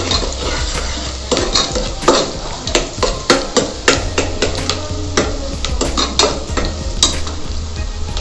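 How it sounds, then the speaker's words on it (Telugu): Vegetables for a veg pulao fry in a pan at home, with a steady close sizzle and rhythmic scraping and clinks of a stirring spoon against the metal. "వేగిపోతాయండి, తొందరగా వేగిపోతాయి"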